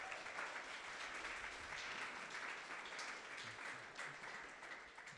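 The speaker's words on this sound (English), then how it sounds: "Round of applause for you guys." An audience at a live in-person Sheffield event claps through a sustained round of applause, dense and continuous with scattered louder claps and a few faint cheers, recorded at low level.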